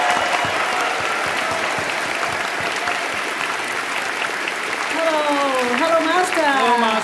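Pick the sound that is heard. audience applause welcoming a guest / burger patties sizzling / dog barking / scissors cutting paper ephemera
audience applause welcoming a guest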